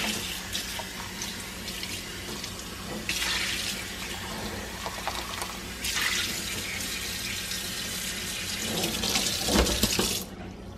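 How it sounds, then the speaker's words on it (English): Tap water runs steadily as a dish is rinsed after being cleaned with foaming dish spray, a close, continuous splashing hiss that swells and shifts as the dish moves under the stream. "And I'm just rinsing this out with water."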